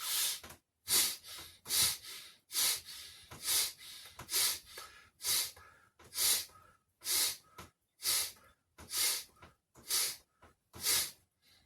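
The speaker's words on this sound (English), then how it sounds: "that's the bellow breath or Bhastrika. So we've got another round to do." Forceful bellows breathing (Bhastrika pranayama) in and out, about a dozen evenly spaced loud, hissing breaths in a steady rhythm, close and alone.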